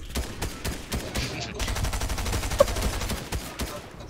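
Rapid bursts of video-game gunfire crackle through a cave-like map called Covert Cavern, with sharp repeated shots and automatic fire running nearly continuously, one standout crack near the middle, and faint voices in the background.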